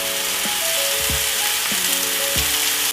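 Apples and cherry tomatoes searing in a hot pan, a loud, unbroken close-up sizzle with faint low thumps and a steady hum underneath, no speech.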